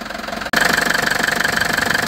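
A 19-year-old car with 120,000 km idles, its engine ticking over in a steady, even, rhythmic knock close to the microphone, starting abruptly after a brief cut and running alone.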